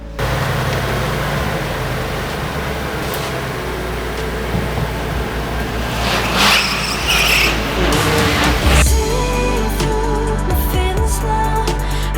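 A Bentley Bentayga cruising on a long highway drive, with a steady close road and engine rumble plus wind and tire noise filling the cabin, and a few brief clicks and thumps near the end.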